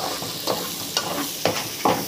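Chopped onion fries in a pan under a soft steady sizzle, while four distinct scraping stir strokes land at roughly half-second intervals, close by.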